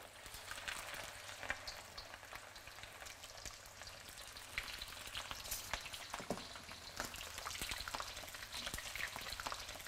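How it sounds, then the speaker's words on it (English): Prawns crackle and sizzle in hot oil in a wok, a soft, steady frying hiss with scattered pops, heard alone at low volume. "you don't want to overcrowd the wok and then just start stewing rather than deep frying"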